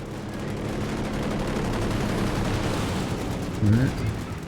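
Aircraft strafing run in a multiplayer war video game, a steady rattling burst of rapid gunfire with a heavier thump near the end, heard over continuous battlefield noise.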